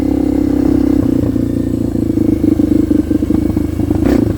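A 2024 Kawasaki KLX 230R dirt bike engine in fourth gear drones loudly and steadily up close, its pitch wavering with throttle changes and a brief rev near the end, with no talking.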